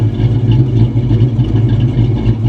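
A 1987 Buick Grand National engine idling, a loud, steady low rumble with an even pulsing throb and a faint mechanical clatter, close by, with no talking.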